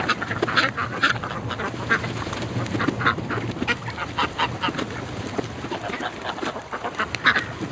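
Many ducks quacking at once in an agitated chorus, close and continuous, with overlapping honking calls and a low steady background hum.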